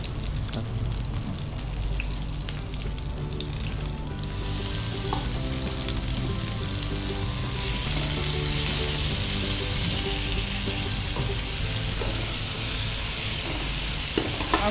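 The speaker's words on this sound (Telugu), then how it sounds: "బాగా మీడియం ఫ్రై చేసుకోవాలి. చికెన్ వేసుకోవాలి." Chicken pieces frying with curry leaves in a pan for Raju Gari kodi pulao, a steady loud sizzle with occasional stirring scrapes running throughout, no voices.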